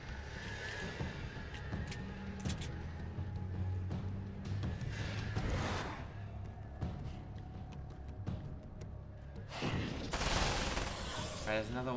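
Gunfire in Alan Wake's American Nightmare crackles in repeated sharp shots and bursts against enemies, with a louder volley near the end, while a player talks throughout.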